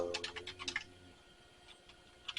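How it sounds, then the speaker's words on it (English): Typing on an AT-style keyboard hooked to an IBM 5170, a quick burst of clicky keystrokes followed by a quieter lull and a couple of final taps, close and clear. "Yeah, keyboard's fully working."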